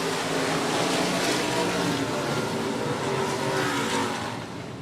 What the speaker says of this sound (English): Limited modified racing 1 more time.